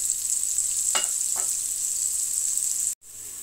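Chopped onions fry in a pan until light brown, giving a steady, bright sizzle close by, with a couple of soft stirring scrapes before a brief cut.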